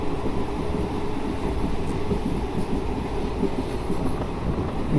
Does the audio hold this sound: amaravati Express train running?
yes